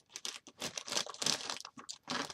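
Thin plastic crinkles and rustles up close in quick, irregular bursts, as if a bag is being handled and opened.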